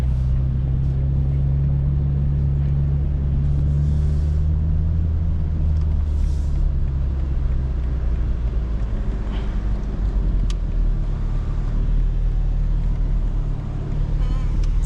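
A 2025 BMW M4 Competition drones loudly from inside the cabin as it is driven, with a deep, steady engine rumble and low hum that shift slightly in pitch as it moves along.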